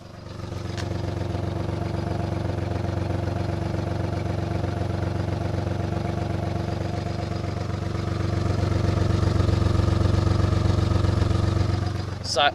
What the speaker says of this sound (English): Very solid idle.